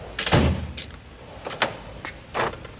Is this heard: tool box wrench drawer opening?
yes